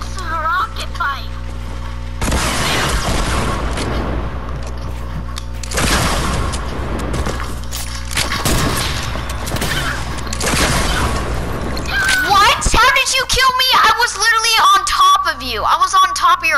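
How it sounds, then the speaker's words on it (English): Rocket explosions during a one-on-one video game fight, loud broadband booms arriving in several bursts with rumbling tails, followed by higher-pitched game effects toward the end. "This is a rocket fight."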